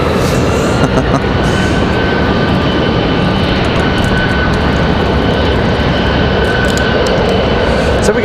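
Airliners wait to depart at Raleigh Durham International Airport on a windy day, a loud, continuous broadband engine roar with steady tonal whine and wind buffeting throughout.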